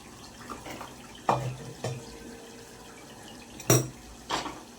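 Cooking water poured off a pot of mutton, a splashing water sound punctuated by a few sharp metallic clanks of the pot, moderately loud and close.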